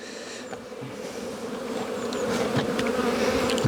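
A honeybee colony buzzes loudly and continuously during a spring hive inspection as the colony is set back in place, a dense close swarm hum with a few faint knocks.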